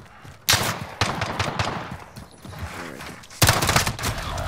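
Gunfire in the video game Call of Duty Modern Warfare, with a rapid burst of shots followed by scattered rounds, then another loud burst, all close and sharp, with no talking.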